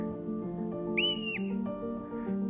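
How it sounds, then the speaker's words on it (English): A marmot, or whistle pig, along the Pacific Crest Trail gives a single short, clear high whistle over a steady low background hum. "That is a marmot, otherwise known as a whistle pig"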